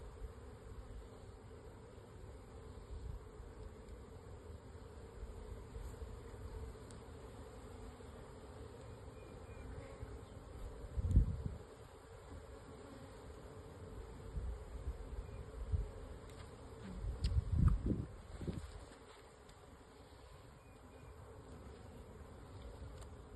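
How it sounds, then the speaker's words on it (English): A faint, continuous hum of honey bees fills the air while a package of them is being installed into a hive, with a few louder rustles and handling bumps partway through. "the bees are going to work their way down in"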